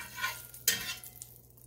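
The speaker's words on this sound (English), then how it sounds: "Now what I'm going to do is just move this around in the pan." Butter sizzles softly in a pan as a spatula pushes it around, with one sharp scrape of metal against the pan partway through, heard up close and alone.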